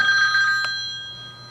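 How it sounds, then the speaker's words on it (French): A mobile phone rings with an incoming call, a steady electronic ringtone with a brief chirp partway through, moderately loud, fading slightly toward the end, no voices. "Ah, on m'appelle. Je me mets en silencieux"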